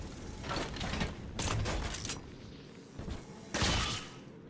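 Turret gunfire in the Bioshock 2 video game, rendered as rapid mechanical bursts that come in several loud spells, with the last burst sharpest and nearest over a steady game background.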